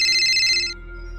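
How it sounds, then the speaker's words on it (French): A single electronic telephone ring chirps briefly and cuts off, leaving a low steady hum behind it. "Tu vas entendre la sonnerie."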